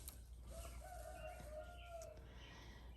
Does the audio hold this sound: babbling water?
no